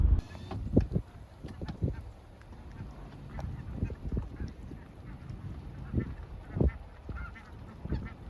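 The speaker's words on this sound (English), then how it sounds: "These definitely are the snow geese." Snow geese honk at a national wildlife refuge, a flock of hundreds heard at moderate distance with scattered, overlapping calls rising in irregular bursts.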